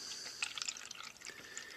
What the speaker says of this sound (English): let's fill the cups with water up to the black line so that both cups have the same level of water.